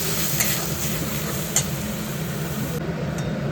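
Chicken pieces being stirred in a pan over a low flame, giving a continuous soft sizzle with scraping spatula movement and a couple of brief clinks, close and steady.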